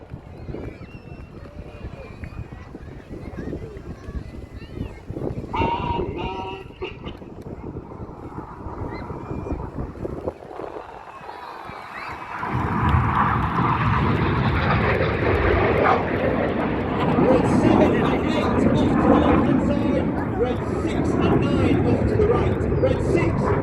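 RAF Red Arrows jets in a flying display with smoke at the Midlands Air Festival, engine roar swelling to a loud sustained rumble as the jets pass, with a commentator talking over the start.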